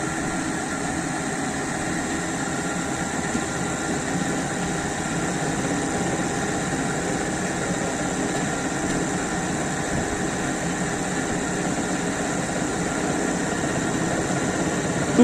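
A DC shunt generator under load test hums steadily for the whole stretch, a continuous machine drone with no talk over it.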